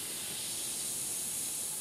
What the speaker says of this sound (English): Give a little spray on my cloth over to the side, starting my air away from the board so I don't spit paint